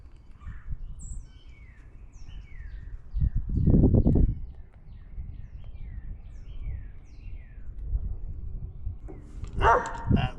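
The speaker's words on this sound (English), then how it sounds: "Atlas the Wonder Dog is barking at something" A dog barks in a short burst, loud and close, while birds chirp repeatedly in the background throughout.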